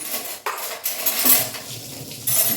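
Metal cutlery clatters and clinks as a spoon is pulled from a collection of utensils, a few close jangling bursts with brief gaps between them and no talking.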